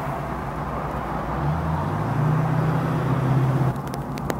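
A 1937 Ford street rod's engine rises in a low, steady rumble as the driver accelerates, swelling and then easing off, close and loud, with a few faint clicks at the end.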